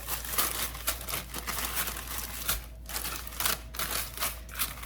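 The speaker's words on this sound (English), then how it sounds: "let's just zip that up and give that a little bit of a mix" Dry ingredients, including salt and baking powder, get shaken and mixed inside a zipped plastic bag, giving a continuous close crinkling and rustling with soft rhythmic shuffles.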